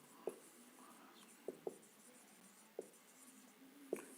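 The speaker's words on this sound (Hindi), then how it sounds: "पहले लिख देता हूं रजिस्टर्स" Marker or chalk writing on a board during an electrician theory lesson, quiet with a handful of soft taps and short strokes spread unevenly over a faint room hush.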